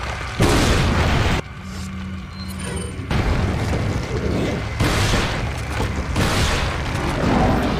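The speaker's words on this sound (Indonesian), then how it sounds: "Kita gunain bom lagi ya Kita gak usah hemat-hemat" Repeated heavy bomb blasts from Resident Evil 4 HD Project, loud booming bursts that rumble across the whole clip with a brief quieter gap between them, standing alone without talk.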